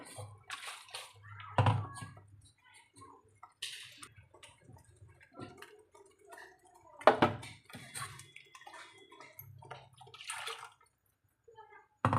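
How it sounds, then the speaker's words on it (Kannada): Water is poured into a pan of egg masala in short bursts, splashing and sloshing between quieter pauses, with faint clicks and drips nearby. "ನಾನೊಂದು ಅರ್ಧ ಗ್ಲಾಸ್ ಆಗೋಷ್ಟು ನೀರು ಹಾಕ್ಕೊಂಡೆ"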